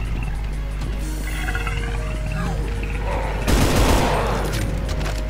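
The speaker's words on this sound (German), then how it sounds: "Hör auf, durch den Boden zu schießen." Video game gunfire from Brutal Doom as a weapon shoots at the floor, a loud burst of blasts over a humming game soundscape with droning effects.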